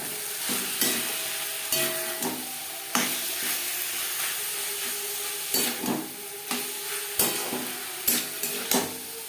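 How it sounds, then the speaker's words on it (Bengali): Chicken with spices being stirred in a hot frying pan, with a steady sizzle under repeated scraping and knocking strokes of a utensil against the pan at an irregular pace. "মশলার সাথে চিকেন বেশ ভালো করে মিক্স করে দেব"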